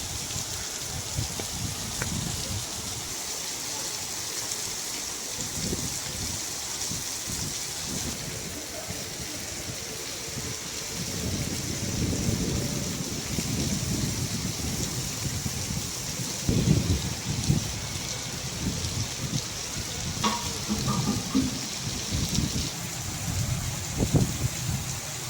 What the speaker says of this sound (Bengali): টিনের চালে পড়া বৃষ্টি আর সেখান থেকে উৎপন্ন শব্দ কার না ভালো লাগে